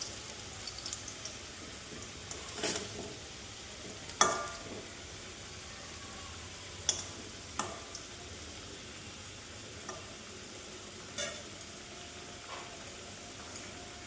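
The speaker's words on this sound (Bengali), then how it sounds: "আলুটা ভাজা ভাজা হয়ে যাচ্ছে" Potatoes fry in a pan with a quiet, continuous sizzle, punctuated by a handful of sharp scraping clicks from a spatula stirring at irregular intervals.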